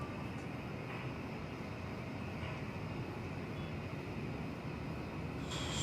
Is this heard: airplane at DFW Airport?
yes